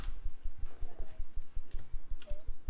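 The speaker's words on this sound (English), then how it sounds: "I'm just typing away." Computer keyboard keys clatter in a steady run of quick clicks, moderately close and fairly quiet, with faint background sounds and no talking.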